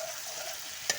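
Two bay leaves dropped into hot spiced oil in a pan, giving a steady soft sizzle with one brief sharper crackle near the end.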